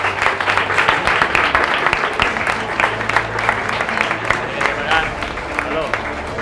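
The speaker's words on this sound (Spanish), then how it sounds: "Un aplauso para Curro, por favor, que se lo merece." Audience applause for Curro at Historias a la Luz de la Luna 2022, a storytelling event at the Convento de San Francisco: dense, steady clapping from a crowd that runs the whole time, with voices and a low hum beneath it.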